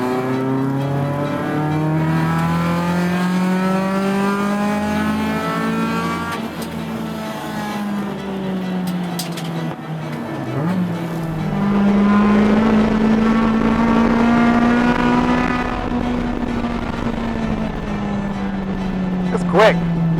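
A K-swapped Honda Civic race car at a Gridlife track event, its engine droning steadily and loud throughout with rising and falling pitch as it accelerates and shifts, close and continuous.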